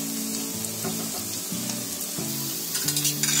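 Snack pieces pan-frying on one side in a shallow pan, a steady low sizzle running throughout the clip with faint intermittent clinks, no voices present.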